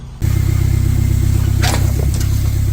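An engine in a Chevrolet Corvair pickup starts abruptly and holds a loud, rough, throbbing run close by. A couple of brief higher bursts sit over the steady drone, with no voices.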